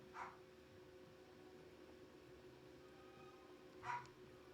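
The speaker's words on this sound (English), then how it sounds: "I still can't figure out why my old dog is barking" An old dog barks twice in the background, with two faint, brief barks several seconds apart over quiet room noise.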